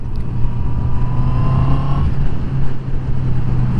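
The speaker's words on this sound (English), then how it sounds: "650. 16 valve double overhead cam engine." A 2021 Honda CB650R motorcycle's 650 cc sixteen-valve double-overhead-cam engine runs continuously at a steady, loud pitch, heard up close over wind rush with no speech.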